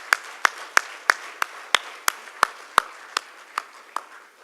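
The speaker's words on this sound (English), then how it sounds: "He deserves a round of applause." At the 2016 Balipara Foundation Awards, a round of applause for a botanist comes across as about a dozen sharp, evenly spaced claps, thin and fairly close, fading slightly toward the end with no talk over it.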